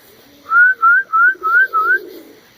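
Flying pigeons settling in after dark, five clear whistled coos in a steady row, close and distinct against a quiet background.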